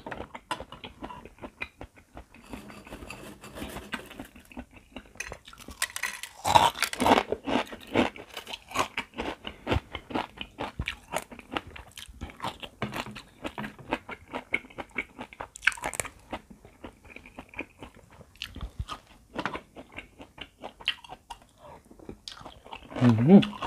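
Giant oyster squeezed with lemon is scooped with a spoon and eaten up close, with wet slurping and crunchy chewing bursts recurring throughout, while someone talks intermittently.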